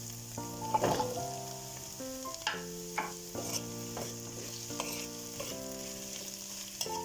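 Carrots and onions stirred in a hot pan over medium heat, with scraping utensil clatter and a soft steady sizzle beneath, plus a few sharper knocks against the pan. Background music plays throughout.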